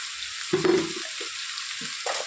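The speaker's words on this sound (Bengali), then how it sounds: "খুব ভালো করে ভেজে নেব।" Chopped potatoes, onions and capsicum fry with salt in a pan, producing a soft, constant sizzle. A couple of brief clunks of stirring rise above it.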